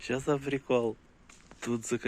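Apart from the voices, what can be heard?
No everyday noises stand out.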